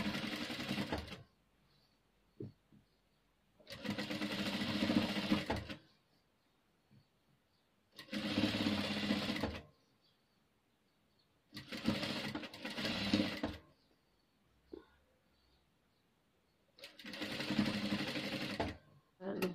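A sewing machine runs in repeated bursts of about one to two seconds while stitching a Kabyle gandoura, with short quiet pauses between runs and faint handling noise in the gaps.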